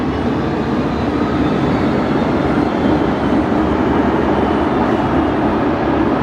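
Singapore Airlines jet on final approach into Brisbane Airport at night, a loud continuous broadband engine roar that holds steady and close throughout, with no talk over it.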